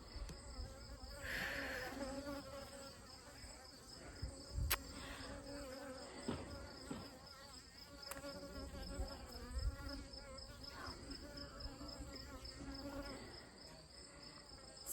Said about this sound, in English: Some of those guard bees from the 3rd hive